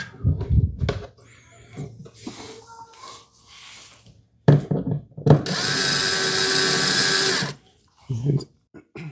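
A cordless drill on a low torque setting drives screws into a wooden TV unit, with short bursts of whirring and one long sustained run, separated by speech and quiet handling noises.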